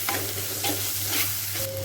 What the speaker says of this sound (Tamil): இப்போ வந்து இஞ்சி பூண்டு போட்டுட்டு அதையும் லைட்டாக கிண்டி விட்டுக்கிறேன்